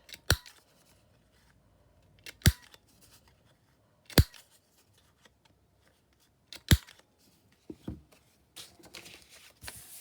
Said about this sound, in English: Let's cut a bit out. Do the corners.